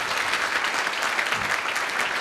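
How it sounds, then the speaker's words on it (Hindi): Students at a college induction program break into a dense, sustained round of applause for a fellow student, many hands clapping together in a steady roar that fills the hall without a break. "एक बार जोरदार तालियां होनी चाहिए बच्चे के लिए"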